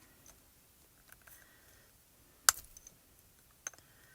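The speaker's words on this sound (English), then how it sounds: "I just took some pliers and pulled that right off." Pliers pry a small plastic piece off a handmade stamping tool, giving faint scattered clicks and one sharp snap as the part breaks free, then a lighter click.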